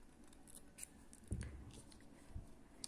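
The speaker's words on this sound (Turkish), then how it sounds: "Daha sonra iplerimi kesiyorum buradan." Scissors snip embroidery threads while making tiny needle-lace flowers: two faint, quick cuts about a second apart, in an otherwise quiet room with no voices.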